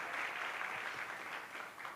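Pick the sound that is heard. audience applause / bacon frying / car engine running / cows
audience applause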